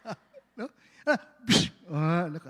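A man vocally imitates a sneeze, with a few short voiced syllables leading into a sharp, breathy burst and a drawn-out voiced tail, loud and close in a quiet room.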